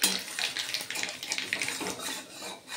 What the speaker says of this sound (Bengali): আমি কালো জিরে ফোড়ন দিয়ে দিলাম।